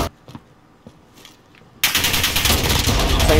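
Automatic gunfire in the video game Call of Duty: Modern Warfare, sparse clicks and faint shots that erupt into a loud, sustained burst of rapid fire for the second half.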